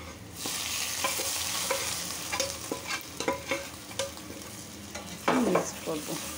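Fried onions tempered into black beef bhuna in a pan, giving a steady sizzle with scraping stirs throughout and a louder burst of hissing near the end.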